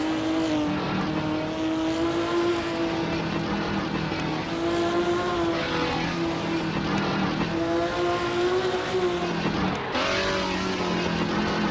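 Race car engine during a fun race broadcast: a loud, continuous high-revving whine that rises and drops with gear changes and throttle lifts, steady and close throughout.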